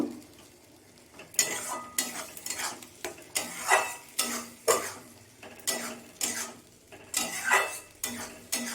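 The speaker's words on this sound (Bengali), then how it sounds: "আদা রসুন বাটাটা আমি একটু নেড়ে চেড়ে নেব" Ginger-garlic paste is stirred in a pan for masala khichuri. A dozen or so crisp metal scrapes repeat in an even rhythm, close up, over a faint frying hiss.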